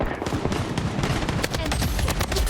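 Rapid bursts of gunfire from a shooting video game during a no-reload challenge, dense crackling shots fired in quick succession and up close, with a voice briefly underneath.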